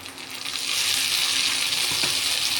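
Tomato paste goes into fried spices and hot oil, setting off a sudden, close sizzle that swells within a moment and stays loud and steady afterward.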